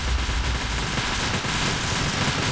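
Minigun fire in the Roblox game Military Tycoon, a dense, continuous roar of rapid gunfire with no gaps, loud and close throughout.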